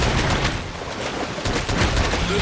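Rapid bowgun fire from the video game Monster Hunter World, a dense, loud stream of shots under continuous action noise, with no talking.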